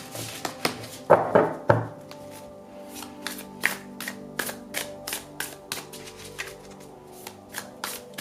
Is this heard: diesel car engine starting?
no